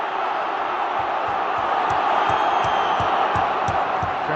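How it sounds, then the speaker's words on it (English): A modest but noisy crowd at a 1995 Premier League football match between Coventry and Blackburn roars and chants continuously, with rhythmic clapping or drum-like thumps pulsing underneath, loud and sustained throughout. "Crowd isn't that big, but it's pretty vociferous"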